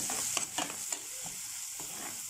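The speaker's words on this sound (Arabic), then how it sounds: "حطيت البصل وهخليه آه، يتشوح شويه" Onion sautéing in a pan for pasta, with a steady close sizzle throughout and a few light stirring scrapes and taps near the start.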